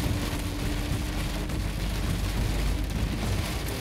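Heavy tropical rain during a storm in the Guatemalan jungle, a dense continuous roar drumming on surfaces, loud and steady with no voices.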